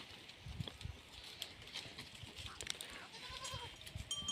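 Several native village goats and young kids, let out together, bleat faintly at a distance over soft outdoor background noise.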